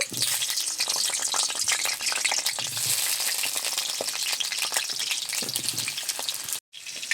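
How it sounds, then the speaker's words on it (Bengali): Potatoes sizzle and spatter steadily as they fry in oil in a kadai, a dense, close crackling hiss that runs almost without a break for the whole stretch. "আর এপাশে কড়াইতে দিয়ে দিচ্ছি আলু আলুগুলো ভেজে নেব"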